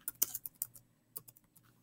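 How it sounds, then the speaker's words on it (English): A brief, quiet burst of clicks on a computer keyboard, several quick keystrokes, then a short pause and a few more taps, close and alone. "And now I can type,"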